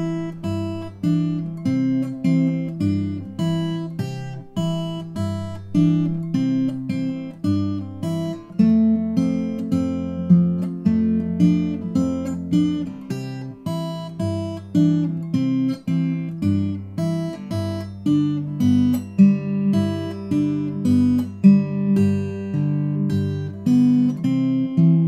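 A steel-string acoustic guitar is fingerpicked in a steady Travis pattern, the thumb alternating bass notes beneath plucked treble notes, played solo with even rhythm.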